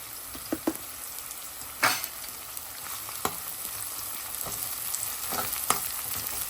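Green garlic and green onion sautéing in oil for Gujarati tuvar totha, a steady close sizzle and crackle with a few sharper spatters and stirring clicks, no voices.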